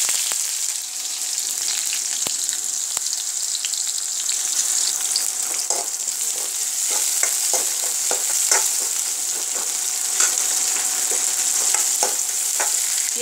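A medium onion fries in a pan with cumin for an Odia bottle gourd curry, a constant crisp sizzle punctuated by repeated sharp clicks and scrapes of stirring, close and clear with no talk.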